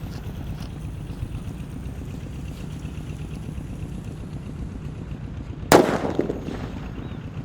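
A small Colorful Thunder firecracker goes off in a single sharp, loud bang, with a brief rumbling tail after it, following several seconds of quiet outdoor background noise.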